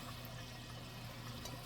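A steady, soft gush of liquid poured over a roast, a low watery rush with no voices.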